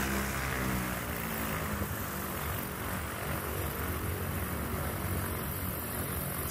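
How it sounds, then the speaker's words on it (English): A Bellanca light propeller aircraft taxiing past at a STOL practice event, its engine a steady droning buzz that holds at an even loudness, moderately near, with no voices. "Scott Sweet and the Belanca taxiing past our camera crews."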